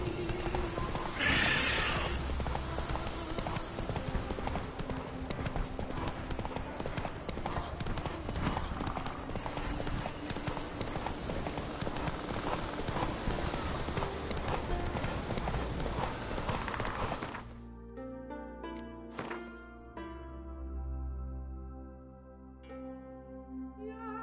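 Horse hooves galloping in The Witcher 3 on PS4, a steady rapid clip-clop under game music and effects for most of the stretch, slowing near the end with a whinny.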